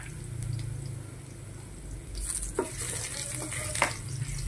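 Chopped ginger frying in hot cooking oil for a shrimp and papaya tinola, a soft steady sizzle close by with a few sharp clinks of a utensil stirring against the pan.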